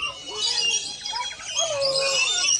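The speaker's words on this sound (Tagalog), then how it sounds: "So many birds" Many birds chirp and call outdoors in warm summer weather, a busy, steady chorus of overlapping tweets close by, with some chatter from people nearby.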